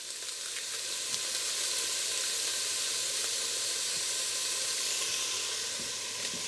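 Chopped onions fry in a pot at the start of a split pea and ham soup, giving a steady, close, bright sizzle and hiss with occasional faint stirring taps and no talking.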